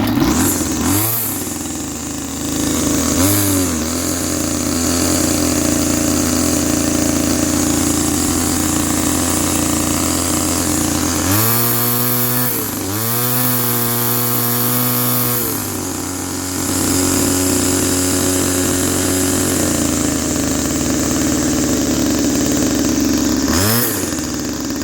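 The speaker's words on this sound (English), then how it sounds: "how to make your weed eater not bog down when you go to rev it up" A weed eater's small two-stroke engine, its carburetor screw just turned out a quarter turn, idles roughly and then revs up hard several times in loud bursts. Each burst climbs to a high whine and drops back to idle.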